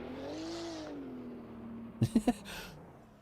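A GT2 race car engine in Assetto Corsa Competizione at the Red Bull Ring holds a steady, loud tone that sags gradually, then three sharp, rapid blips ring out on the downshift before a brief rasp.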